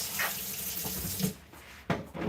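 Tap water runs steadily as an item from yarn dyeing is rinsed in a sink, with splashing shifts and a brief lull before the flow picks up again.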